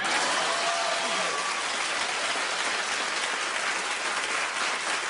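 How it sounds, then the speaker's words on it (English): An audience bursts into dense, steady applause, loud and sustained throughout with a faint voice briefly beneath it. "Clap if you know what I mean."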